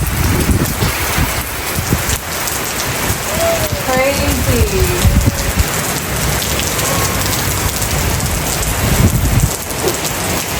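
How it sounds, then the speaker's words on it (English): Heavy rain pours steadily throughout, a dense hiss of drops hitting surfaces, with a brief excited voice exclaiming partway through. "Look at this rain, you guys."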